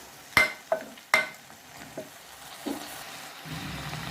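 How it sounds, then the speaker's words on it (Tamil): Cleaned, unsalted dried anchovies being stir-fried in a pan, with a few sharp scrapes and taps of the utensil over a faint sizzle, close and alone with no voices. "இது கூட சேர்த்து ஒரு பரட்டி விட்டுடலாம்."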